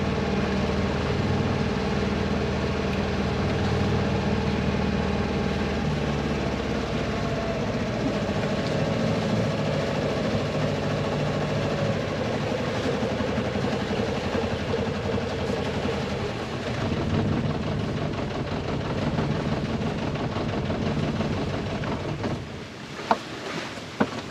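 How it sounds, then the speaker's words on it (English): A low sailboat engine idles with a steady drone, then cuts out near the end, leaving a quieter background with a couple of faint knocks. "So let's do that beautiful task of turning off the engine."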